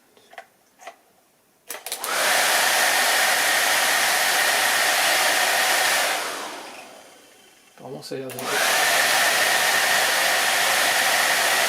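Repaired heater blower fan of a Renault Twingo 1 whirring with a steady, loud high-pitched whine, starting after a few clicks, winding down midway, then spinning back up; someone speaks briefly before it starts.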